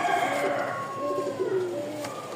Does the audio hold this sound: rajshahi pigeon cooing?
yes